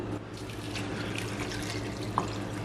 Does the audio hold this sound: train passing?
no